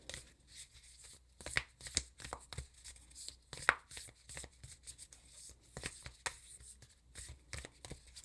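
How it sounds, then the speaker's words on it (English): Tarot cards being shuffled by hand, a steady run of soft papery riffles and taps, close and fairly quiet, with no talking. "I'm going to keep shuffling."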